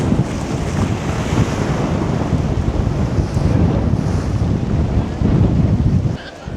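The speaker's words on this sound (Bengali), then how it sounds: "ঢেউ দেখলে বুঝতে পারবেন যে কতটা হাওয়া দিচ্ছে এখানে" Sea waves and strong wind at a jetty on Sri Lanka's Delft Island ferry route, a loud, continuous roar of surf and gusting wind buffeting the microphone, close and unbroken throughout.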